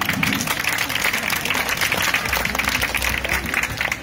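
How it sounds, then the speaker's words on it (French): An audience at an artistic fencing demonstration claps loudly and continuously, a dense roar of applause with a low rumble underneath. "Mathéo, qu'on peut applaudir bien fort"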